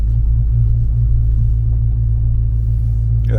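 Deep, steady low rumble of a Dodge Scat Pack engine idling and creeping along while parking in a lot full of cars, loud and continuous, with a brief brighter burst right at the end.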